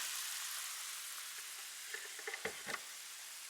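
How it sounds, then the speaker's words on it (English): Apple jelly at a rolling boil in a pot gives a constant hiss and sizzle, with a few soft bubbling pops and stirring sounds near the end, close and fairly faint, with no talking. "It's at a complete rolling boil."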